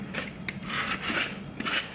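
A rasp files the edge of a drywall patch in a few short, scratchy strokes, close and fairly quiet.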